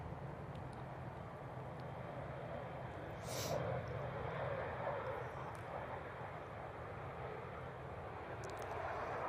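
An airliner in an old livery touching down at Manchester Airport, its steady broadband engine roar carrying at moderate distance with a brief swell partway through.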